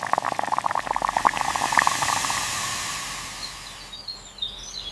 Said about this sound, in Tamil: மண்பானையில பாசிப்பருப்பை குழைய வேக வைக்கணும்.